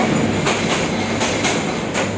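A heavy train roars by nearby on a river bridge, its wheels clacking in regular bursts over a continuous loud rumble. No one speaks.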